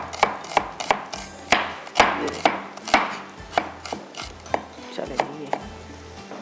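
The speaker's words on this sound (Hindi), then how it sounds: "ये इस तरह से आपने कटिंग करके प्याज डाल दिया।" An onion is chopped with a knife on a cutting board in a kitchen: a quick, close run of sharp, fairly regular chops, alone apart from a brief spoken word.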